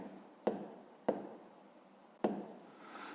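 Three separate strokes of writing on paper, sharp short scratches spaced unevenly, near and quiet against a soft background hiss, with nobody speaking.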